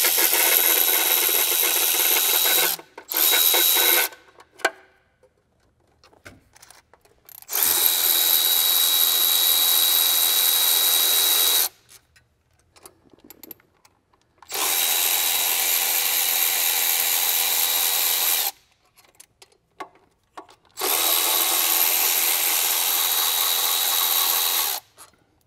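A power tool breaks loose the lower EGR pipe bolt on a Ford 6.7L Power Stroke diesel, running in four loud, sustained bursts of several seconds each with short quiet gaps between.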